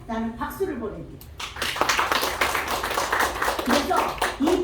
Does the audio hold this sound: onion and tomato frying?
no